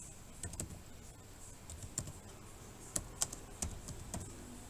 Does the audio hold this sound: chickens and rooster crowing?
no